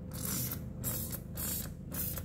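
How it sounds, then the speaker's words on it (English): A cleaning solution is sprayed from a spray bottle into a washing machine's dispenser tray. Four short hissing bursts come at a steady rhythm, close and clear. "So I'll just be spraying the solution inside the tray, the dispenser tray where you put your"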